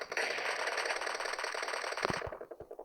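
Rapid automatic gunfire in the PUBG battle royale game, a dense continuous burst of fast shots that ends in a few separate final cracks, heard close and fairly faint, with no talking.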